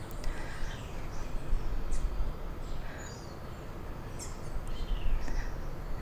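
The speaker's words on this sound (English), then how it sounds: "I'm out on my patio, listening to the birds and the wind and the river below." Birds chirp and sing in short scattered bursts outdoors on a patio above a river, faint and somewhat distant over a steady bed of wind and flowing water.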